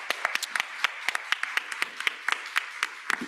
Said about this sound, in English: they get a big round of applause for that as well